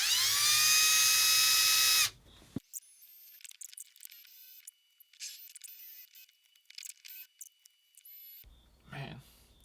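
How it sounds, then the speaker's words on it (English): An electric drill whines loud and high for about two seconds as it bores into the metal body of a car anti-theft lock, then stops abruptly, followed by scattered clicks, scrapes and handling noises. "I'm just going to try to drill straight through the body of it"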